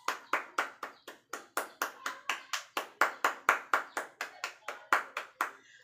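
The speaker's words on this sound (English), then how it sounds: "You all deserve a virtual round of applause." Applause from a class, heard as a steady series of about two dozen crisp, evenly spaced claps close by, loud and rhythmic with no voices over them.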